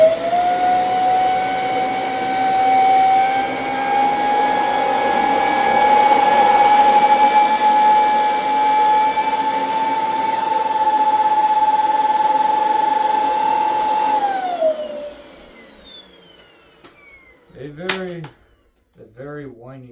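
A Dyson DC25 All Floors bagless upright vacuum cleaner runs with a steady, loud, high-pitched whine for about fourteen seconds, then winds down and stops, followed by a few brief, faint sounds.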